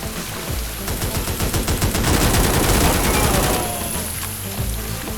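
Rapid repeated shotgun blasts in the pseudo-tactical shooter A.W.O.L., a loud dense string of close gunfire bursts that swells and then eases toward the end.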